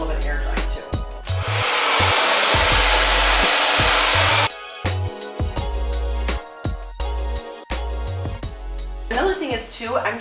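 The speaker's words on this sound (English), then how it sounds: "I'm just placing the hair in the diffuser and cupping it up" A hair dryer fitted with a diffuser blows steadily while drying wavy hair, its loud whooshing airflow dropping in and out as it is switched and moved, with a voice talking over it.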